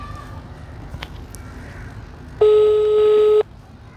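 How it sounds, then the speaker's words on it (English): A telephone tone sounds during a call, one steady electronic tone lasting about a second, loud and clear over a quiet background with a few faint clicks before it. "It's ringing."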